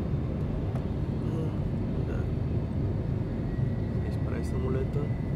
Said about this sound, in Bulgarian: Самолета